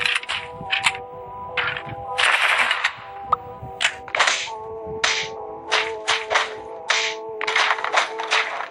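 Repeated sharp gunshot cracks from the video game Mini World, fired in quick irregular bursts over a steady tonal in-game background, loud and close.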